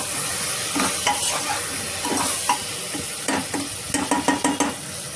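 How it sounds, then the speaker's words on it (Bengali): Egg pasta being stirred as it fries in a pan, a steady sizzle with irregular scraping strokes that grow quicker and more clustered toward the end, close and fairly loud with no voices. "একটু নাড়াচাড়া করে নিচ্ছি"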